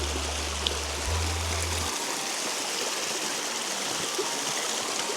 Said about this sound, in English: Lovely little creek